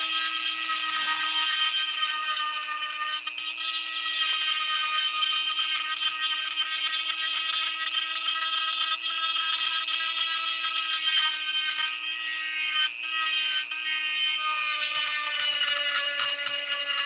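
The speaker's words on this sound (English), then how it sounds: "I'll try a sanding drum and see how it does on it." A rotary tool fitted with a sanding drum grinds bone while shaping guitar picks. It makes a steady, high-pitched whine close by that runs for the whole stretch with only brief dips, and no voices.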